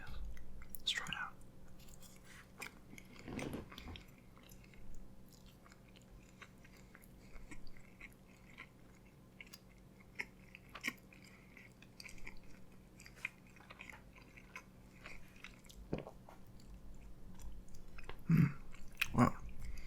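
Close, quiet mouth sounds of someone eating an Indian vegetable flatbread, warmed in the oven and looking like a tortilla, with soft irregular bites and chews over a faint steady background hum.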